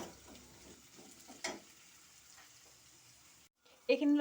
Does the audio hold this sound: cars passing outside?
no